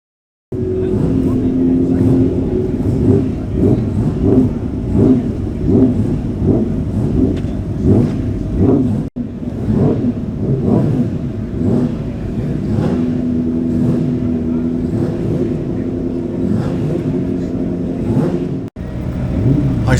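A 600cc racing sidecar outfit at the Manx Grand Prix Senior race day roars loudly and continuously, its engine note rising and falling with gear changes and revs as it passes close by.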